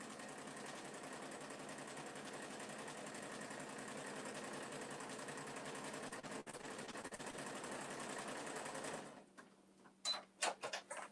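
A sewing machine quilting a top handle tote bag runs in a steady continuous whir for about nine seconds, close and even, then stops, followed by a few brief handling knocks.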